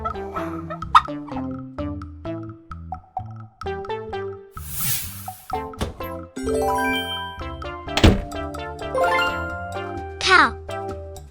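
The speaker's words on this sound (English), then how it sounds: "Turkey." A turkey gobbles in a cheerful farm-animal learning piece for toddlers, its burbling calls set against a bright, jingling tune, with a voice naming the animal.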